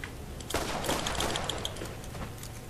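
A revolver in the video game Borderlands fires a quick burst of three shots in rapid succession, sharp and close, followed by brief ringing tails.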